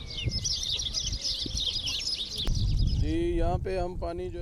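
Peafowl calling in a wildlife sanctuary in Tharparkar, Sindh, a loud nasal wailing call near the end following busy chirping of smaller birds and rustling, outdoors with no talking.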